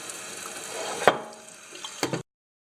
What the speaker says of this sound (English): And then I'm going to fill them all up with the hot water.